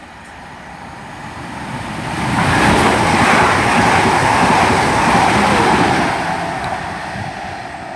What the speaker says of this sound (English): passing through now is a service to London Waterloo from Weymouth